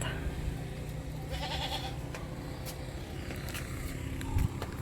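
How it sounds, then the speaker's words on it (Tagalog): A goat bleats faintly amid outdoor ambience, with a passing vehicle hum in the background and a short thump near the end. "Ayan ang kambing"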